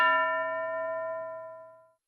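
A single clear metallic ding from a classroom bell, struck once and ringing out with a long, smoothly fading tone of about two seconds.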